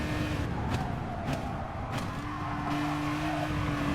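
An Aston Martin DBR9 race car engine in Gran Turismo Sport drones loudly and steadily down a straight, with a sustained low tonal roar and brief clicks of gear changes, no voices present.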